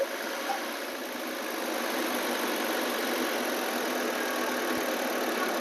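A Maruti Eeco van engine idles with the air-conditioning compressor switched on, a steady mid-pitched hum with faint knocking vibration, close and continuous without speech.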